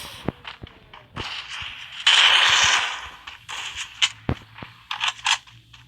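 Gunfire from a shooting video game crackles in sharp single shots and short automatic bursts, one longer roaring burst in the middle, with scattered impacts and clacks around it.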